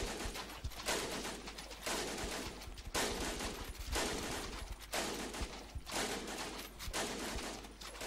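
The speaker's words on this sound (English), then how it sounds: "I know it's kind of disappointing that the machine gun doesn't have a continuous sound effect." A machine gun in a No Man's Land video game fires repeated separate bursts, each about a second long with short gaps between them. The shots are loud and close, with no talking.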